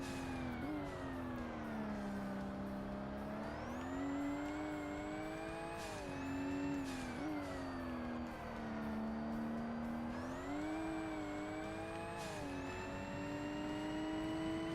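A race car engine in Forza Motorsport, a high-revving whine that climbs and settles through repeated gear changes at steady loudness, wind and road noise behind it, no talking.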